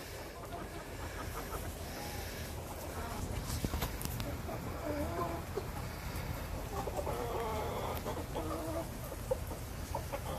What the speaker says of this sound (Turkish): burada da tavuklar, horozlar ve tavus kuşu bulduk